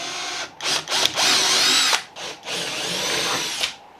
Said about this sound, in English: I'm actually drilling all the way through these holes as well